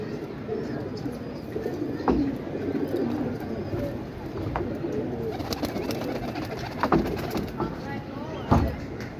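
Soft coos from a caught pigeon murmur beneath people talking nearby on a rooftop, with scattered clicks and rustling taps throughout.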